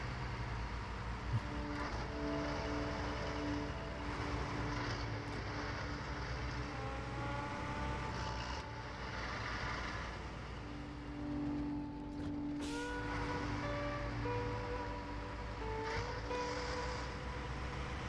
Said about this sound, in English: I like the sort of fairly robust clicking of the gearbox as it shifts gears.